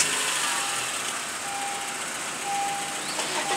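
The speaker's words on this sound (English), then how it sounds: "Turn the car on." A car engine idles steadily after starting, a low continuous hum with a faint high whine, heard from inside the cabin at moderate level without speech.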